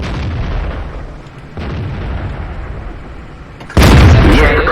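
A T-44 tank cannon booms in World of Tanks: one sharp, loud blast near the end, following quieter muffled rumbles and engine noise, with no talk.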